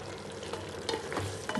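Mushrooms frying in a pan for mushroom biryani give off a steady close sizzle, with a few clinks as they are stirred, over a short stretch.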